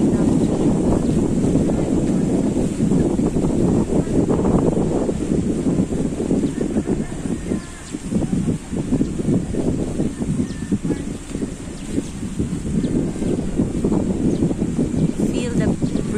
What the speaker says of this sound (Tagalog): Feel the breeze in the morning.